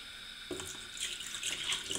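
Cold water streams from a tap into a vinegar mixture used to clean hard-water stains from a hair steamer's measuring cup. The splashing flow is close and continuous, growing slightly louder partway through.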